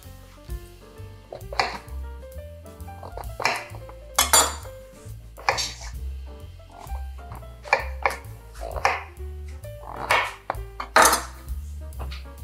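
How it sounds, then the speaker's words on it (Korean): A knife slices king oyster mushrooms into thick pieces, giving a string of distinct, fairly loud chops against a board at uneven intervals over steady background music. "이 새송이는 두껍게 그냥 이렇게 잘라주세요."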